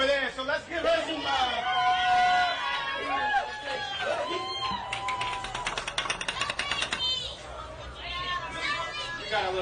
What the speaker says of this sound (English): We got a little crowd going on here